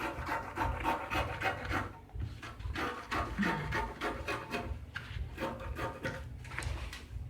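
Scissors cutting through sewing fabric for a sleeveless top, a run of close, rapid rasping snips and rubbing strokes in an irregular rhythm, with no talking.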